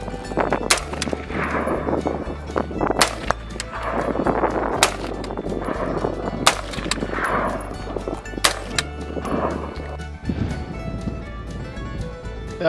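Loud, sharp gunshots crack one after another at an Arizona shooting range, irregularly spaced and close, with low background hum between them.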